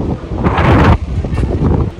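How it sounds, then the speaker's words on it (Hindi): Wind gusts against the microphone outdoors in a Scottish old-town street on a cold day, a loud rumbling buffet peaking briefly then dropping to lighter, uneven puffs. "हवा चल रही है इसलिए काफ़ी तेज़ ठंडी"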